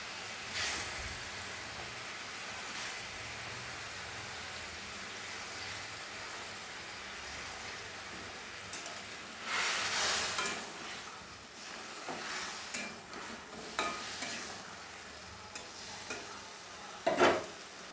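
Pieces of pona fish go into a pan of onion curry, which gives a faint, steady sizzle with a couple of louder bursts of frying and stirring scrapes toward the end.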